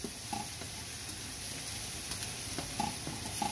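Garlic sizzling in hot oil while frying for a chicken curry, a steady crackling hiss throughout with occasional small pops and clinks.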